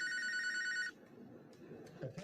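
A telephone bell rings in a short, loud burst of tone in a crime-reenactment program, then cuts off abruptly, leaving faint background sound and muffled noise.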